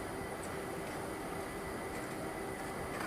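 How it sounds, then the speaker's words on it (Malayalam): The Kottayam-Nilambur Express departs Angadipuram railway station on the Shoranur-Nilambur line in the rainy season, with a steady, even rumble of the rolling train heard throughout and no talk. "കോട്ടയം നിലമ്പൂർ എക്സ്പ്രസ് അങ്ങാടിപ്പുറം റെയിൽവേ സ്റ്റേഷനിൽ നിന്ന് വീണ്ടും പുറപ്പെട്ടിരിക്കുകയാണ്"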